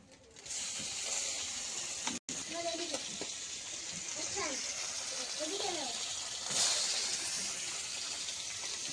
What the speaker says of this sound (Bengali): মাছ ভাজার সাথে সাথে কড়াইতে একটু পেঁয়াজ কুচি দিয়ে দিলাম